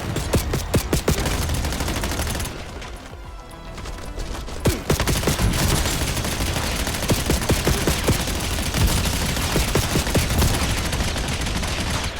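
Gunfire rattles in the video game Call of Duty Black Ops 7: loud, rapid bursts of automatic fire and scattered sharp shots go on almost without pause, easing briefly before resuming in dense volleys.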